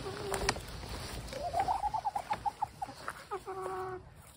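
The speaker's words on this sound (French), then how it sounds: "comme des cocotements doux" Hens cluck softly nearby in a quick run of short, evenly spaced notes that rise and settle, followed by a few drawn-out tonal calls over a faint background.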